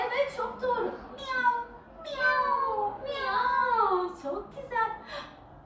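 Several drawn-out, wavering meows in succession, close and fairly loud, with short pauses between them.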